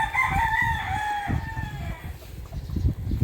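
Rooster crowing loudly and close, one drawn-out call that fades after about a second and a half, followed by scratchy rustling and soft clucks from the chicken pen.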